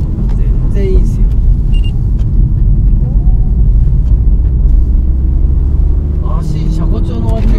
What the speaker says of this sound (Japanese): STI だともう、やっぱこう、スバルのチューニングカーですからね。